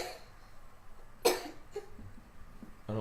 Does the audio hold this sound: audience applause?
no